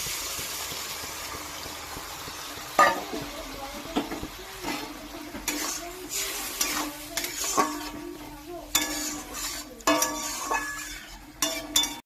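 Ground ginger, cumin, onion and garlic paste sizzles in a pan after water is added, with repeated scraping stirs and clattering strokes against the pot over a low crackling hiss.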